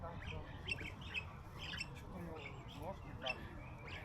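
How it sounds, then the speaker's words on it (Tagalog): Pigeons calling in a busy city street at lunchtime near Panfilov Street and a park in Almaty, with several short squawks and coos scattered over steady traffic and crowd noise, while a person talks throughout. "May mga kalapati."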